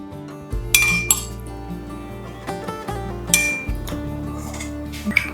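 Potatoes dropped into a metal potato ricer for Polish potato dumplings, giving several close, loud clanks and clinks of metal and crockery in an uneven rhythm, with no talking.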